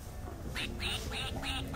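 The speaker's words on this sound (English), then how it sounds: "There's a duck that quacks." A stuffed toy duck gives four rapid, evenly spaced quacks at close range, quiet against a murmuring indoor background.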